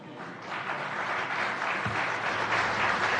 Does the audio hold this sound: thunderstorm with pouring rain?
no